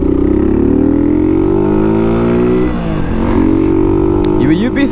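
A Suzuki DR 200 enduro motorcycle's small single-cylinder engine revving up close, its loud buzzing tone sliding up and down in pitch as the throttle rises and falls.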